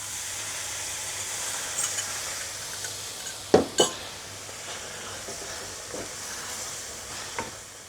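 Beef broth poured into a pan and stirred for a creamy beef stroganoff with meatballs, giving a steady soft sizzle and hiss with a few brief spoon clinks against the pan, close and alone.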